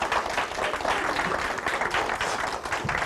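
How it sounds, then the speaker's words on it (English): Steady applause from a crowd, dense clapping that holds at an even level throughout without dropping off. "Get a round of applause here on Sunday morning."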